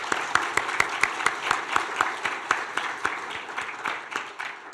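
Warm applause rises from a church congregation at a gospel revival meeting, many hands clapping steadily with a few sharp near claps standing out, filling the room for several seconds.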